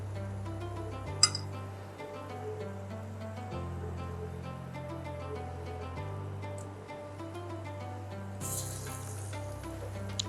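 Vada pav vadas (potato fritters) frying in hot oil, a soft steady sizzle and bubble at low level, with a sharp metallic clink near the start and a brief brighter hiss later on.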